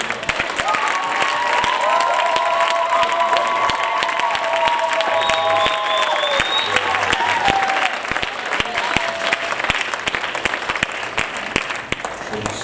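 A church congregation bursts into sustained applause and cheering for the Lord at a sermon, a dense crowd roar with whistles and shouts, with a voice speaking over the clapping throughout.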